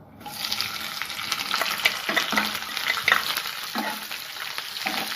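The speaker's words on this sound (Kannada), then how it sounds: "ಈಗ ನಾನು 4 ಹೆಚ್ಚಿಟ್ಕೊಂಡಿರೋ ಆನಿಯನ್ನ ಹಾಕ್ತಾ ಇದ್ದೀನಿ" Chopped onions frying in hot oil for vegetable biryani, a steady, close sizzle with stirring scrapes and a few louder spatters, no talking.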